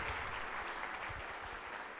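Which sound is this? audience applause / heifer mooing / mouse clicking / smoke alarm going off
audience applause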